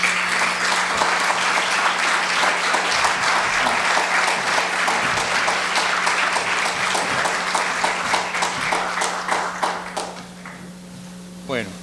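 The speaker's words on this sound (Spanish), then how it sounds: "Un aplauso, por favor" Sustained applause from a university audience at the close of a ceremony honoring international relations guests, dense steady clapping for about ten seconds before tapering off, with a faint steady hum underneath.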